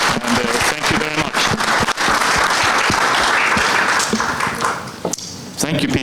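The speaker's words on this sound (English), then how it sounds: "I want just to give our panel an applaud" Sustained applause from a conference audience thanking a panel on safer nicotine products, dense clapping with scattered sharp claps, heard alongside some voices and background noise throughout.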